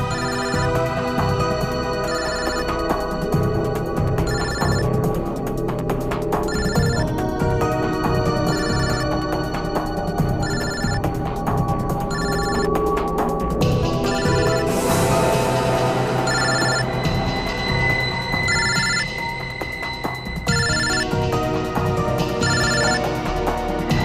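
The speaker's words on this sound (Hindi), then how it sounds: "फोन तो यही कहीं बज रहा है।" A mobile phone rings loudly with a repeating melodic ringtone, blended over busy background music for the whole stretch, with no voices.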